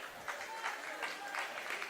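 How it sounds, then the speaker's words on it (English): Audience applause at a high school basketball game as a fouled-out player, Chris, heads to the bench; steady scattered clapping from the crowd, moderately loud, with a commentator's voice faintly underneath. "Chris is out with 5 as he sits down and gets some applause from the audience"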